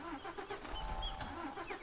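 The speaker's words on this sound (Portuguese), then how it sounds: "O ônibus apagou, mano." School bus engine running on a rainy road, a mid-pitched rumble that sputters and falters as it stalls, heard up close with rain and road noise around it.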